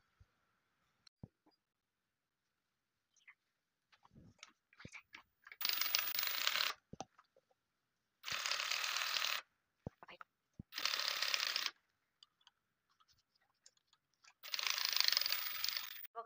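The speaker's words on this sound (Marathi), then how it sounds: "तर चला आता आपण अशी टिप मारून घेऊया." A sewing machine runs stitches into old denim jeans fabric in four separate bursts, each about one to one and a half seconds long. Short pauses and faint handling clicks fall between the bursts.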